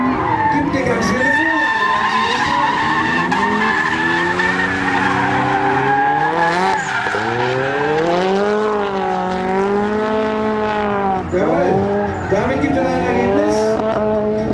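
BMW 3 Series drifting at a 2008 Tuningdays twin drift battle in Augsburg, engine revs rising and falling continuously with loud skidding tire squeal throughout, close and dominant, with a commentator's voice running over it.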